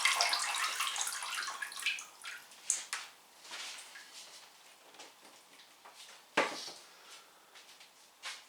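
Water poured onto potted Paphiopedilum orchids, soft splashing and trickling in irregular bursts with a few sharp drips, fairly quiet and close.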